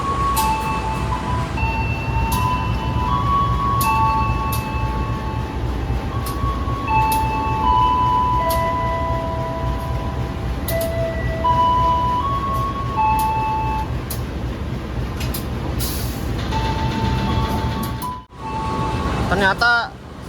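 A passenger train hauled by two locomotives runs steadily along the track, a continuous loud rumble with rhythmic clicks and some high squeals, heard from on board under intermittent talk.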